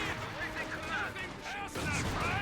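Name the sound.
mortar fire in Company of Heroes 2 video game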